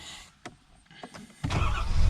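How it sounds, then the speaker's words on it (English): A Ford F350 pickup truck starting up: a couple of faint clicks and a brief crank, then the engine catches with a sudden loud, broadband roar that holds steady, close by with no talking. "Starting the truck up,"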